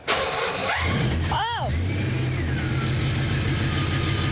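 A muscle car at Muscle Cars of Texas cranks and catches with a loud, close roar, then settles into a deep, steady idle rumble, with a voice calling out briefly over the engine.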